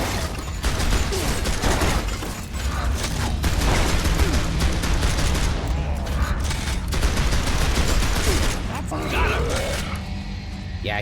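Gunfire in the video game Gears of War 2, a dense, continuous barrage of rapid shots and impacts that fills the whole stretch at close, loud level, with game effects and a voice mixed in.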